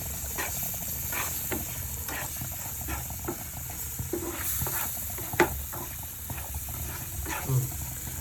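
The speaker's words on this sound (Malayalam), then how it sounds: "ഇനി കുറച്ച് ചെറുള്ളി ചതച്ചത് ഇട്ട് കൊടുക്കാം. എന്നിട്ടൊന്ന് നന്നായിട്ട് വഴറ്റിയെടുക്കാം." Crushed shallots sautéing and being stirred in a pan while sardines are fried, a steady low sizzle and hiss with soft scraping stirs and a couple of brief clinks, fairly quiet and close, no talking.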